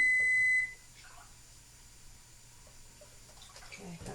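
A home kitchen oven gives one steady electronic beep lasting about half a second, clear and fairly loud, then quiet room tone with faint clatter.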